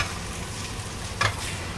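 Food caramelizing slowly in a pan over lowered heat, a close, steady sizzle with a low rumble beneath and one brief brighter crackle midway.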